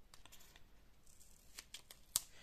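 Soft, quick snips of black non-stick scissors cutting through tape, several in a row with one sharper cut near the end, close by and quiet.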